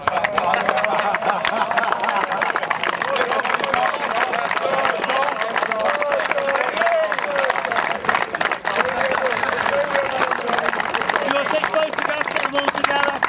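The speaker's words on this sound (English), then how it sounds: "so a big round of applause to Dan" A large crowd at an Old Boys rugby event at St Ambrose College claps and cheers in a dense, steady wash of applause lasting throughout, with a voice-like murmur and tonal sounds mixed in.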